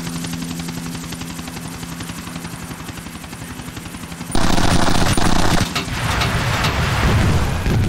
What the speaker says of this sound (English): The Buzzard Attack Helicopter. Same machine guns.